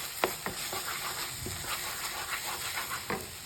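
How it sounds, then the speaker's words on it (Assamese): Dry spices fry with tomato paste and kasuri methi in a pan, giving a soft, steady sizzle, with scattered scraping taps from stirring. "যাতে বিলাহীৰ পেষ্টৰ লগত শুকান মছলাখিনি ভালকৈ ভজা যায়"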